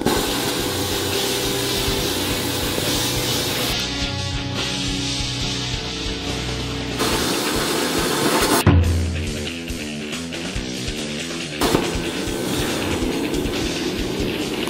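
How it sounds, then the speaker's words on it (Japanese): A plasma cutter running on a DELTA Pro battery, using stored compressor air, slices through metal with a steady loud hiss that shifts in tone as the cut changes and briefly stops and restarts. "もうプラズマカッターでこんなに連続的にカットしたのに全然電気が安定してました。"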